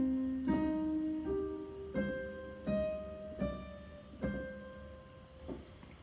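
A single measure of a Bach piece played on piano, a series of distinct, evenly paced notes, each struck cleanly and left to ring briefly, quiet and close with no talking.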